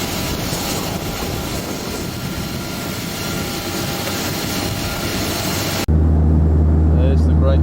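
A small plane's engine drones loudly and evenly in flight over northern Australia toward Cape York. Near the end the roar cuts abruptly to a steadier, lower humming cabin tone.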